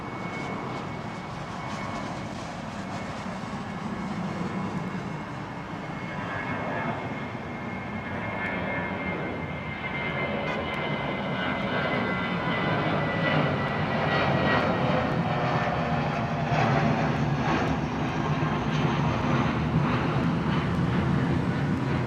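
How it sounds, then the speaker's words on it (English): A fixed-wing airliner taking off at London Heathrow Airport: a sustained, loud jet-engine roar that builds steadily over about twenty seconds, with no talking. "So he's lifted that aircraft."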